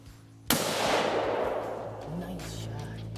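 A single loud rifle shot on a hog hunt cracks sharply, then rolls away in a long fading echo as voices talk quietly afterward.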